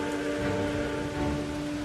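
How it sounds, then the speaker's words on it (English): Torrential rain pours as a dense, steady roar in the opening of The Hunt for Red October, loud and unbroken, with a low tonal hum running under it and no voices. "These kinds of movies always have to start off in torrential rain"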